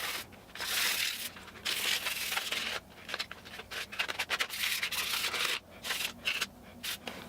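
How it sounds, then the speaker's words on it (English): Sandpaper scrubs a cheap plastic dollar-store Jason Voorhees hockey mask in rapid rough bursts of close, dry scratching, broken by short pauses. "I'm gonna try to sand this and see what happens"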